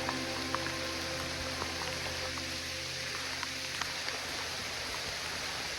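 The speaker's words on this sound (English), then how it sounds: "A little wet, a little rain." Light rain patters steadily on a hiking trail in a state park, a soft continuous hiss with scattered drips and occasional small taps, fairly close and uniform with no talk.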